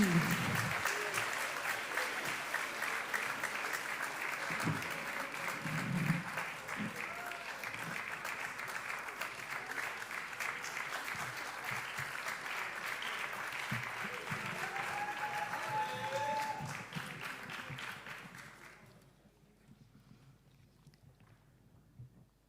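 A crowd at a slam poetry cup event applauds a slam trio, sustained dense clapping with some cheering that runs for about eighteen seconds before dropping away to quiet room noise.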